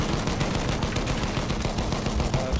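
Dense, sustained gunfire in the Battlefield 1 video game during a Conquest match in the Sinai Desert, with rapid bursts and overlapping shots that stay loud and continuous throughout.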